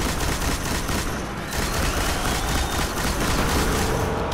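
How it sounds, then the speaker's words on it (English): Machine gun in the video game Destiny firing in rapid sustained bursts, loud and dense, with booming impacts layered under the continuous rattle and a brief dip midway. "So I like to use the machine gun"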